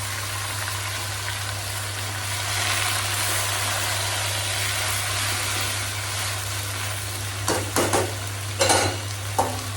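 Greens tipped into hot fried tempering sizzle steadily in the pan, with a low constant hum underneath and a few clattering stirs near the end.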